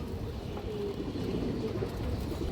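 A strong red-eyed pigeon gives a low, steady, rolling coo, faint and continuous against a dull background hum.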